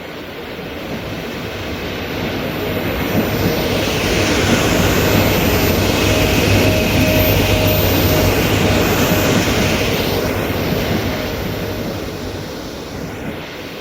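Trains roll through Bałtyk Główny railway station, with intercity passenger trains and freight traffic: a loud, steady rumble of wheels and cars that swells through the middle and eases off toward the end, with no voices.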